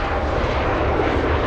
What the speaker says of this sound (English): Now it's starting to sound more like LA flights, Kevin.